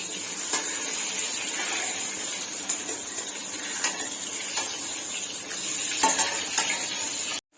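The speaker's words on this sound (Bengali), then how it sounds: "বেগুনের এক পিঠ ভাজা হয়ে গেছে, এবার আমি অপর পিঠ উল্টে দিচ্ছি। অপর পিঠও ভালোভাবে ভেজে নেব।" Eggplant slices sizzle steadily in hot oil in a pan, with scraping and light clatter as the pieces are turned over to fry the other side, close and continuous before cutting off abruptly at the end.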